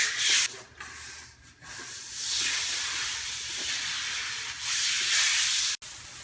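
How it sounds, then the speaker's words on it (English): A brush scrubs cracks in a concrete garage floor being prepared for a Rust-Oleum epoxy coating, giving a sustained hissing, rasping rub that swells and fades in strokes, with a brief break near the end. "So you want to make sure that you scrub these real good."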